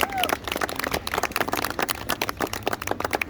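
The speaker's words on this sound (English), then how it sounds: "One more round of applause for Dominic." A crowd at a Kenyan barista championship applauds a competing barista, a dense, fairly close run of many hands clapping for a few seconds with voices mixed in.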